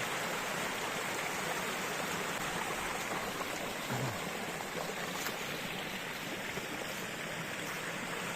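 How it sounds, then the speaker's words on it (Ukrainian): A small forest stream flows in early spring, a steady, dense babbling rush of water heard close and continuous throughout, with no voices. "дивіться, який неймовірно красивий струмочок я знайшов"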